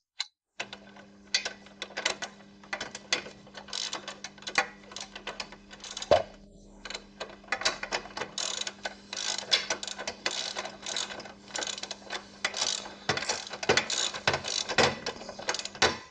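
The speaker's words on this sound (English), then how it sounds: "now we tighten the screw" A screw being tightened on the kickstand of a Yamaha Virago 250 motorcycle: steady clicking, ratcheting and mechanical scraping that continues with little pause over a faint steady hum, close to the microphone.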